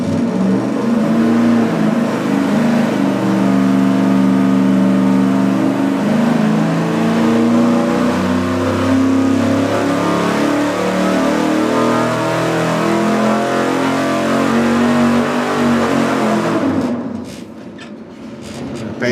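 An engine revs hard on a dyno pull while fitted with a cheap carburetor, a loud sustained roar climbing steadily in pitch for about seventeen seconds before cutting off abruptly into a quieter idle.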